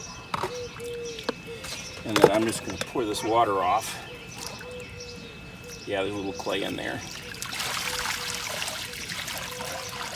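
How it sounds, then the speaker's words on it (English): Water poured off a green sand foundry mixture in a small home machine shop, a trickling, splashing pour that rises near the end, with a person talking over the earlier part. "And then I'm just gonna pour this water off."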